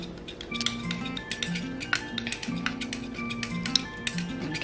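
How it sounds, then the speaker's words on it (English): Shower steamer ingredients, including menthol crystals, stirred briskly in a bowl, giving a steady scraping clink of utensil against the container with quick repeated strokes, close and fairly loud, with background music underneath. "And then I'm going to mix it really well."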